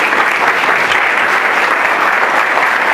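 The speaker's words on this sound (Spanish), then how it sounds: "¿Qué tal si le dan un fuerte aplauso?" Church congregation giving a loud, sustained round of applause for first-time visitors, dense clapping filling the room throughout.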